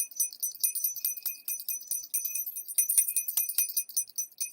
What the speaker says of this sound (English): let's try to clear the vibration with our sacred bell.